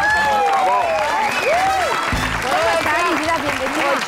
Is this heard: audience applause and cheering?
yes